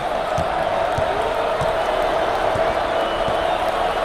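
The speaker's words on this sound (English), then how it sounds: "this hometown crowd is showing their appreciation. Look at them. Up on their feet, wanting more" A video game basketball arena crowd roars and cheers steadily for the home team, a dense continuous din with faint ball bounces and a commentator talking over it.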